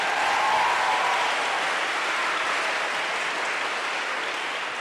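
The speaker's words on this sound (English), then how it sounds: "Let's have another round of applause for Hasan and Wajahat." Sustained audience applause for comedian Hasan Minhaj and writer Wajahat Ali at an event hall, a dense even wash of clapping that holds steady and tapers only slightly over several seconds, with no voices over it.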